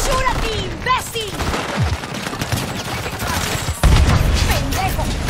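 Rapid automatic gunfire and explosions in Call of Duty Modern Warfare 3 multiplayer on the Shipment map, dense and continuous with a heavy boom near the end, mixed with game announcer callouts and players talking.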